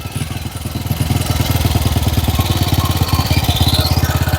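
A 1948 Motobécane D45B motorcycle engine fires and settles into a steady, rapid single-cylinder putter, running loud and close with a fast even exhaust pulse for several seconds.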